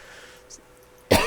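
A single harsh cough bursts out loud and close after near silence, cut off right at its peak.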